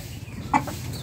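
Roosters feeding on scattered food give a single short, clear cluck over a low, steady background hum, close by and otherwise quiet.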